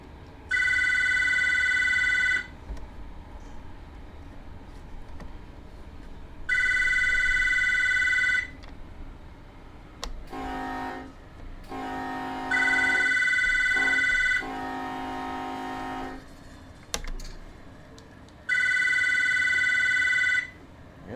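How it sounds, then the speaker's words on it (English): A telephone rings in loud repeated bursts, each about two seconds long with long gaps between, and other quieter electronic tones and clunks fall in between the rings. "That's a damn phone."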